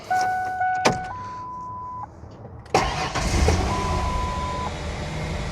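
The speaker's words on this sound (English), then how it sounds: "You start her up, verify everything's okay." A Ford 4.0 engine starts after a coolant temperature sender replacement. Dashboard chime tones come first, then the engine cranks and catches with a sudden burst, settling into a steady idle close by.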